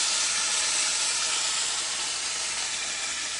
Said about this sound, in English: Wow, and that steam just blasted up.